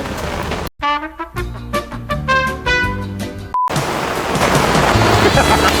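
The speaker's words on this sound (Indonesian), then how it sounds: "Nih lagi hujan nih." Steady rain falls outside a busy food stall serving big pots of food at lunchtime, a dense even hiss that takes over after a short burst of music and stays loud to the end.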